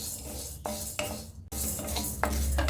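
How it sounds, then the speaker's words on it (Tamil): Toor dal dry-roasting in a pan, with grainy rasping stirs and scrapes of a spoon against metal in repeated strokes, close and fairly loud, no talking. "துவரம்பருப்பு இந்த அளவுக்கு வறுபட்டது போதுங்க"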